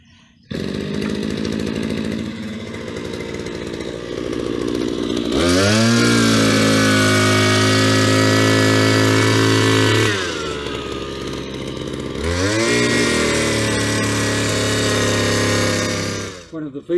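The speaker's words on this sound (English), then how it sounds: "You hook up a line cutter, a small chainsaw and a hedge trimmer, as well as a brush cutter." A multi-function garden tool fitted with a small chainsaw attachment runs close by, its engine idling roughly, then revving hard to a steady high whine twice, dropping back between bursts.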